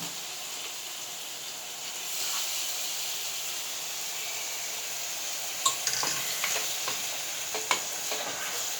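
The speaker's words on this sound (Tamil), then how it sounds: "இப்போ இந்த ஸ்டேஜில் கழுவி வச்ச சிக்கனை போட்டுக்கலாம்." Steady loud sizzling of washed chicken frying in a pan, with scraping and clinks of a utensil stirring it in the second half.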